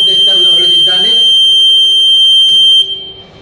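An aircraft fire training panel's smoke detector alarm sounds during a test: a steady, loud high-pitched electronic tone holds for almost three seconds and then cuts off, with faint background voices.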